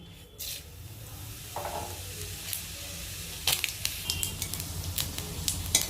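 Dried red chillies and cumin seeds hit hot mustard oil in a pan while cooking winter vegetable khichuri, giving a soft steady sizzle with sharp crackling spits and pops growing busier toward the end.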